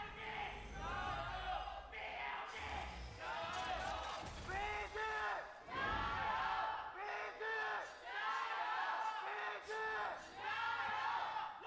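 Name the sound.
esports arena crowd chanting and cheering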